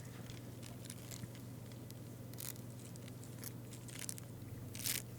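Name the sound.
hornet larvae scraping mandibles on nest cell walls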